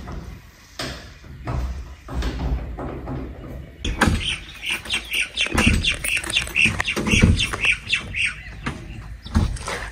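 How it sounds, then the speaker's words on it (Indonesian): Birds chirp and squawk in repeated bursts around an old village house in rural China, the calls growing busier after a few seconds, with a couple of thuds like a door moving early on. "Suara burung kicauannya itu loh."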